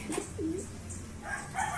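A pigeon coos softly in low, throaty notes against faint outdoor background noise.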